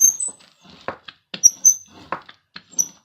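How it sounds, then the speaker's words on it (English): A squeaky rubber brayer rolled over paper, giving a run of short, high squeaks and rubbing strokes in bursts, close and fairly quiet, with brief gaps between passes. "Sorry for the squeaky brayer."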